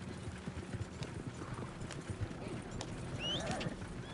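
Horse hooves galloping in Red Dead Redemption 2, a rapid, steady clip-clop rhythm close by with a brief whinny near the end, no speech.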